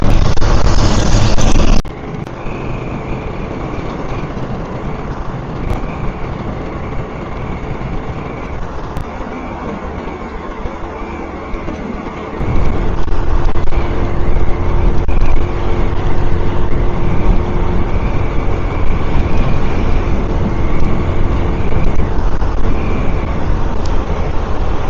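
A small motorbike cruising along a highway between Navi Mumbai and Hyderabad, with a loud, steady roar of engine and wind that swells to a heavier rumble partway through, continuous and close without any talking.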